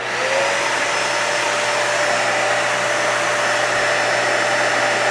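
A vacuum cleaner powered by an Anker 757 portable battery runs steadily in a driveway, a continuous loud whine with a high tonal hum, close and alone without talk.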